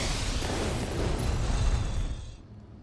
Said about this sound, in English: These fireworks stick to your enemies and set them on fire! Then they explode!